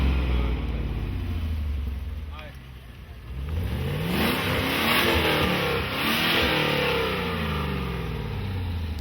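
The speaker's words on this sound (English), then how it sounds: "here's an RX-7 which had a V8 motor. You could tell just by listening to the grumble." A V8-swapped Mazda RX-7 at a drift and car meet, its engine rumbling and revving loudly nearby, the deep grumble rising and falling over steady outdoor crowd noise.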